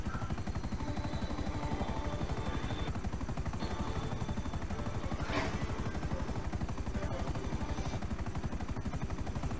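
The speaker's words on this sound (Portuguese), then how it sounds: "Os helicópteros estão muito longe." Helicopters in the distance in GTA V Online, a steady rhythmic rotor chop thrumming low and continuous throughout, with a brief sharp burst midway, no talking over it.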